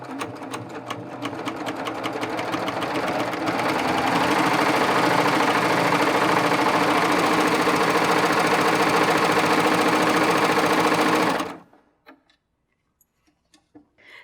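A Baby Lock serger stitches a cover hem with differential feed engaged to gather fabric, its rapid mechanical chatter building up and running steadily loud and close before stopping abruptly near the end, followed by a few faint clicks.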